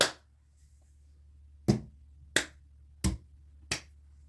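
Children's rhythmic hand clapping in a musical rhythm game for young kids: one clap, then four sharp claps at an even pace, close and clear over a low steady hum.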